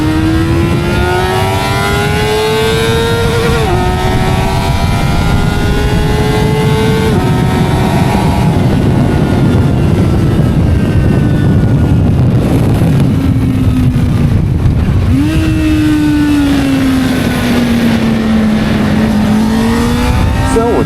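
A CFMOTO 500SR four-cylinder motorcycle screams at high revs around the large racetrack at Tianfu International Circuit in Chengdu, its rising and falling engine note shifting through gears continuously and loudly for the whole stretch, with no talk.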